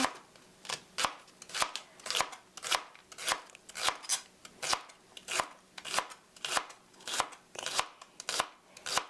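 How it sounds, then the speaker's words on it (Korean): A knife finely slices welsh onion (green onion) on a cutting board: a steady run of about sixteen crisp, evenly spaced chops, close and clear, with no talking. "웰시 어니언 대파는 이렇게 송송 썰어서"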